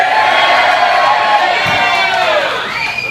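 A comedy club audience shouts a loud, sustained group "yeah" in agreement, cheering and whooping together for a few seconds before it tapers off.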